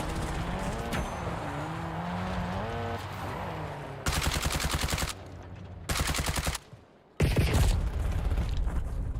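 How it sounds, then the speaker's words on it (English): Loud bursts of automatic gunfire in Call of Duty Warzone, several rapid rattling volleys separated by short pauses, following a stretch of game music and ambient sound. "I was shooting at a rock"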